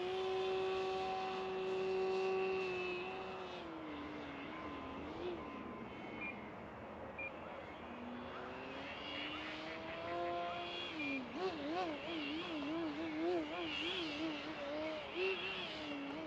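An E-Flite Extra 300 RC plane flies nearby, its electric motor whining in a steady tone that rises, falls and wavers as the throttle changes.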